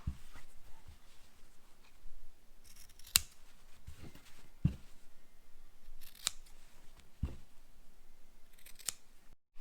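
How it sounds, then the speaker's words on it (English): Scissors snip fabric corners off a homemade cloth face mask, several crisp separate cuts spaced a second or two apart, close and fairly quiet, with no voices. "you're just going to snip them off."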